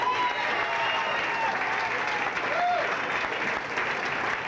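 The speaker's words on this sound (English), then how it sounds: "can we have a nice round of applause for Mr." Steady audience applause at an evening tribute gathering, fairly soft and continuous throughout, with a brief tonal squeal rising through the middle.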